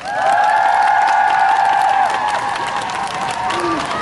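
A crowd at the opening of the Police Agency Human Rights Film Festival applauds and cheers loudly with high shouts and whoops, a dense roar that holds steady and then eases slightly.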